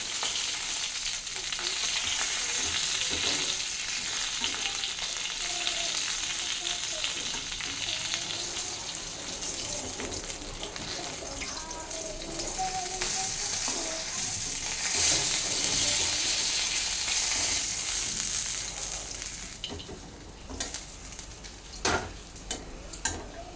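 Fish fries in oil in a pan, a continuous loud crackling sizzle that runs throughout, with occasional faint clinks of utensils.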